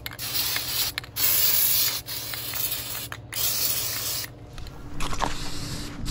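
An aerosol spray can applies camouflage paint to a replacement ladder stand seat in several close, loud hissing bursts separated by brief pauses, with no talking.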